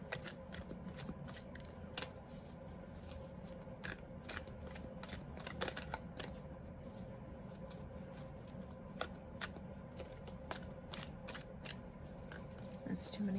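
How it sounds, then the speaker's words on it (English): Playing cards handled and shuffled at a table, with quick papery flicks and riffling snaps scattered throughout, close but quiet, over a low background murmur. "So let me get a few other cards for you."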